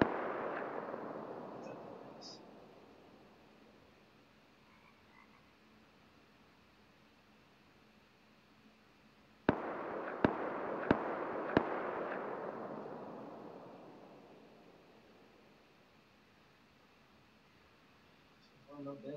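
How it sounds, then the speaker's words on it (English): Semi-automatic rifle fire in a video game: four sharp shots in quick succession, at a moderate distance, over a steady windy hiss that swells and fades. "I hear the shots from the SAR."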